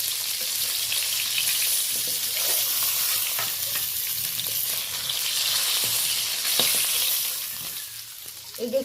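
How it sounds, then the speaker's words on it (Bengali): Fish fries in a hot pan with a continuous close sizzle and spatter, joined by occasional stirring or turning sounds for several seconds. "সেমভাবে আর বাকি মাছগুলোও আমি ভেজে নেব।"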